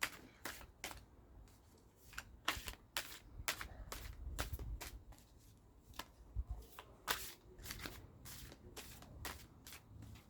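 A deck of tarot cards being shuffled by hand, a series of quick crisp riffling bursts repeating at irregular intervals, close and fairly soft, with no speech.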